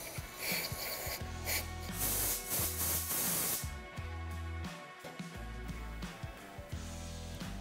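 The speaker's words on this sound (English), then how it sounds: "I'm just going to use a little bit of contact cleaner and spray that off" Contact cleaner and compressed air spraying to clean out a crankcase pressure sensor hose and tray on a KTM, Husqvarna or GasGas two-stroke motorcycle, a brass fitting covered with a rag; loud sustained hissing bursts, close up, with no talking.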